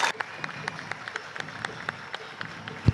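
Grandstand crowd at a grape-festival parade applauding health professionals, a sustained wash of clapping with rhythmic sharper claps standing out over a distant crowd murmur and a brief thump near the end.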